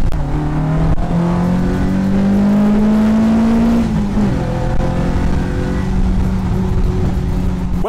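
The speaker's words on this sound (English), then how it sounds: "welcome to go-karting around the streets of Kyoto" Convoy of go-karts driving through Kyoto streets, loud buzzing engines rising in pitch as they accelerate, then dropping and climbing again, with several motors overlapping.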